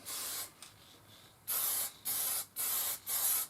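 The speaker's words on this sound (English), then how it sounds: "Right, quick blast of some clear coat." Close hissing bursts from a Pro XL clear coat spray can, one longer blast followed by four rhythmic, evenly spaced sprays, loud and sharp with brief gaps between.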